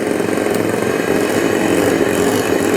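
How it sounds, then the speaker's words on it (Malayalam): An electric mixer whips a dalgona mixture at low speed, giving a steady motor whir and hum that runs unbroken throughout. "വളരെ ലോ സ്പീഡ് ഒന്ന് മിക്സ് ചെയ്ത് കൊടുക്കണം"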